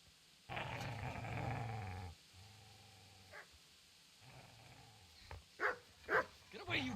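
A dog growls and barks in the Kingdom Come: Deliverance video game, with a long growl up front, then shorter snarls and sharp barks toward the end.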